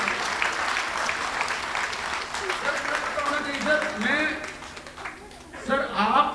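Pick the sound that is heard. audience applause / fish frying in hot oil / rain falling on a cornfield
audience applause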